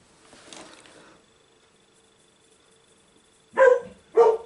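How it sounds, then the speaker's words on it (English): A pet dog gives two sharp, close barks in quick succession near the end, after faint rustling and a stretch of near silence. "barking at something. She doesn't need an excuse to bark."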